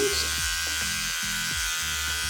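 A small electric brow trimmer buzzes steadily up close, its motor pitch wavering slightly as it presses against eyebrow hair.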